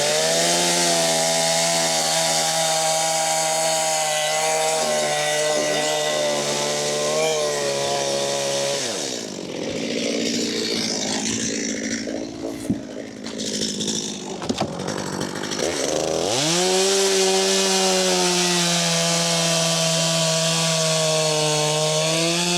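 A freezing-cold chainsaw roars steadily up close in winter, its pitch dipping and roughening for several seconds as it bites into wood before revving back up.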